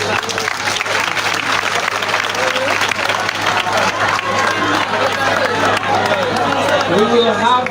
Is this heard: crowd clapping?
yes